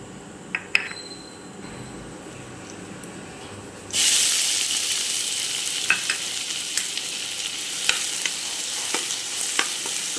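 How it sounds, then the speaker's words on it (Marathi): Cumin seeds crackle and sizzle in hot oil in a pan, with a sudden loud hiss at the start and steady frying with sharp pops after it, close up and alone, with no talking. "जिऱ्याला कडकडी येईल। कडकडायला सुरुवात झाली आहे।"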